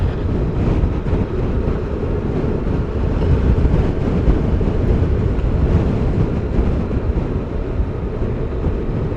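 A Honda VFR1200 motorcycle cruises in third gear, with a loud, continuous low rumble of engine, road and wind buffeting that stays fairly even for the whole stretch, and no voices.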